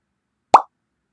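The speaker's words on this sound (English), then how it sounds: "I will let you hear the pop sound" A single short, bright pop sound effect made for the Focus Buddy app, one quick plop that is close and clear and fades fast against silence.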